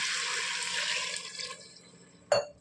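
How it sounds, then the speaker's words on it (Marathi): Water pours steadily into a cooking pot of sautéed eggplant and potato for over a second, then tapers off, followed by a sharp metallic clank. "आता टाकून आहोत पाणी"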